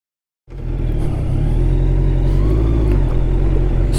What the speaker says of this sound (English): It's growling, man. It has got that deep feel from the exhaust.